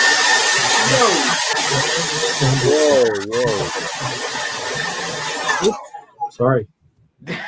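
A hair dryer blows with a loud, steady rushing whoosh while people talk over it, then it cuts off abruptly near the end.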